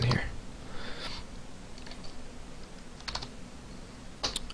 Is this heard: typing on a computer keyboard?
yes